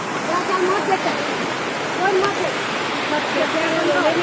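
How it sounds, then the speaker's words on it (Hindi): A waterfall at Amarkantak roars along a rocky path, a loud, continuous rushing wash of water that is near and steady throughout, with faint chirps of birds over it. "ये झरना का शोर बहुत मन को विभोर करते जा रहा है"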